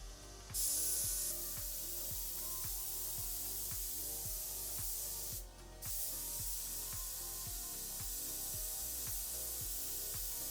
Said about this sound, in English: Then I sprayed a second coat of paint.